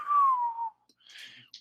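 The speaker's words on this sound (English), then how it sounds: "I give a nice whistle." A person whistles a single long, gliding note that slowly falls in pitch, loud and close, followed by faint breathy hiss.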